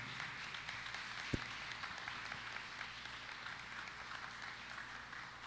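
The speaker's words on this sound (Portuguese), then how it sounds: "Você pode aplaudir o Senhor pela vida da Lília, gente?" Soft, sustained applause from a church congregation fills the room, steady and somewhat distant, with a single sharp clap standing out early.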